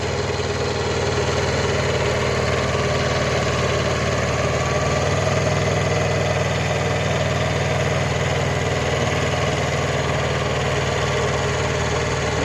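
A Japanese Kubota B5001 compact tractor, about 9.5 horsepower, tilling ground for garlic and onion planting. Its small diesel engine drones steadily and loudly for the whole stretch with a constant low rumble, close by and without speech.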